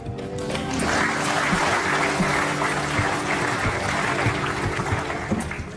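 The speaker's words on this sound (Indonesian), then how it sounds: "Yuk kita balik tepuk tangan dulu buat Nayanya." A studio audience on the Indonesian TV show Hitam Putih gives sustained, dense applause that fills the whole stretch at steady loudness before tapering slightly at the end.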